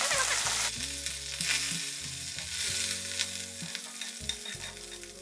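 Fenugreek leaves dropped into a pan of browned garlic sizzle loudly and steadily, a close, continuous frying hiss with occasional stirring and no talk.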